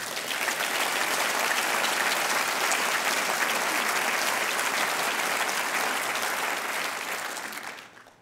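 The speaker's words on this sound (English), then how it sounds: "That must have been an applause line" Sustained applause from a lecture audience fills the hall, a dense even roar of clapping that holds steady for several seconds before fading away at the end.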